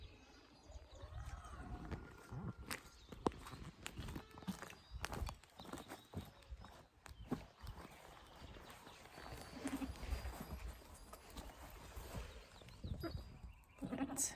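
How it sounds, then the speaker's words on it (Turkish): Goats and lambs bleat in a barn hayloft amid shuffling hooves, thumps and rustling straw, fairly quiet with occasional sharper knocks. "Şimdi kuzularımızı samanlığa koyduk."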